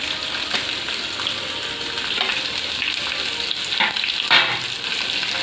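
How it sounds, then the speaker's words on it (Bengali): Sliced onions fry in spiced oil, giving a loud, steady sizzle with a few brief scraping or stirring bursts in the pan. "এরপর আমি বাকি স্লাইস করে কাটা পেঁয়াজ অ্যাড করে দিলাম।"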